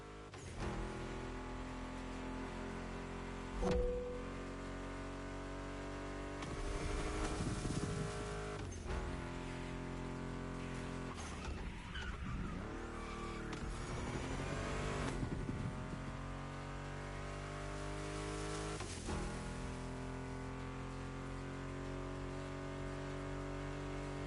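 Ford Mustang GT muscle car engine in The Crew Motorfest racing game, a steady loud drone with shifting revs and a few surges, running continuously under music-like tones.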